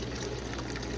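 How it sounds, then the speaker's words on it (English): Water drains from thawed frozen krill in a faint, steady trickle and gurgle, close and quiet, with no voices. "All the water's draining."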